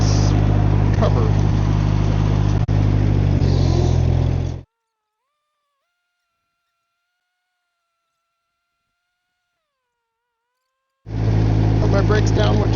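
A Ditch Witch R65 trencher runs with its chain turning, giving a loud, steady mechanical drone for about four and a half seconds. It then cuts to near silence and the same close, heavy running returns at the end.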